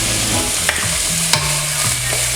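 Shredded cabbage with curry leaves and desiccated coconut stirred in a hot pan, a close, constant sizzle with a few soft scrapes of the spoon against the pan.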